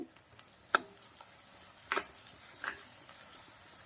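Grated ginger, garlic and fresh green corn sautéing in desi ghee, soft sizzling with a few sharp clinks and scrapes of a spoon stirring the pan, close and fairly quiet.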